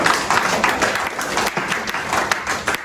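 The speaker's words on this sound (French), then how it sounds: "Que nous pouvons acclamer pour le Seigneur" Church congregation applauding for the Lord during a Sunday worship service, a dense, steady wash of many hands clapping throughout, loud and close, with little else beneath.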